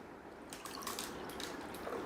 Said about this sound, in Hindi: ये 2 गिलास में मैंने ऑयल लिया और 1 गिलास में डाला नॉर्मल पानी